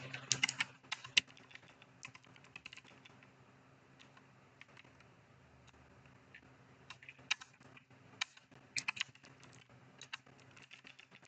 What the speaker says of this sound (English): I'm going to start typing here.